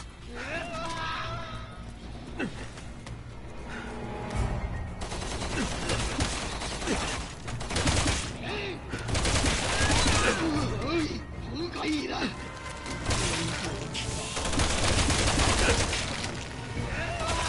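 Gunfire in Resident Evil 6 crackles in ragged bursts and volleys throughout, mixed with impacts and crashes, while voices talk over the chaotic battle.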